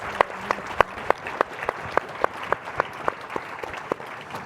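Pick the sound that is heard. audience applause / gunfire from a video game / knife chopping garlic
audience applause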